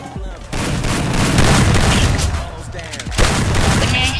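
Gunfire in the video game Free Fire: rapid bursts of shots and booming impacts crackle over a dense, loud game mix, with a sharp blast near the end.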